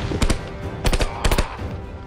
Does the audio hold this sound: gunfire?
yes